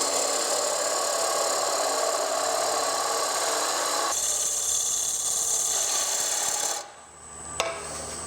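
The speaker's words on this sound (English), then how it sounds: "I'm going to have to clean out some material in here so that can happen. So I'll take my armrest and my scraper" A hand scraper braced on an armrest shaves wood from a spinning sphere on a woodturning lathe, making a loud, steady rasping scrape for several seconds that drops away as the cut stops and the lathe hums on.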